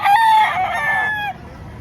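A rooster at a Batangas chicken market crows one loud, close cock-a-doodle-doo lasting over a second, its bright warbling call dropping off sharply into quieter market background.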